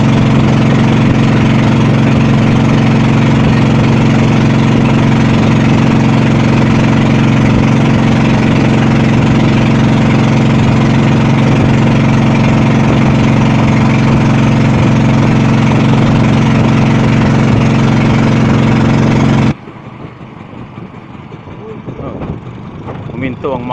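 A boat engine on a crossing of Lanang Bay in Palapag, Northern Samar, runs loud and steady with a constant droning hum for about twenty seconds, then abruptly stops, leaving quieter water and background noise.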